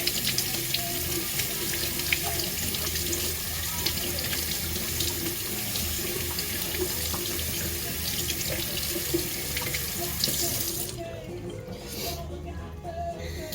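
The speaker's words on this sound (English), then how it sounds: "now we're gonna rinse it off" Running tap water pours steadily over a Scottish Highlander spine being rinsed in a sink, a continuous close splashing hiss that cuts off near the end.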